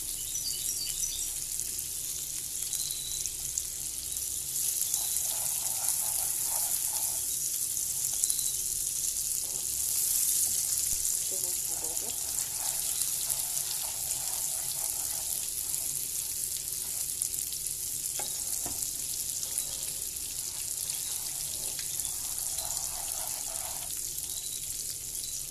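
Butter, with a little margarine, sizzles steadily in a pan while crêpes Suzette are cooked, making a continuous bright hiss with soft kitchen clatter and no talk.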